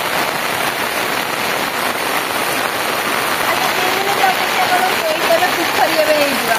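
Steady rain pours outdoors at a home, a dense, even hiss of drops that holds loud and constant throughout, with faint tonal sounds drifting in near the end.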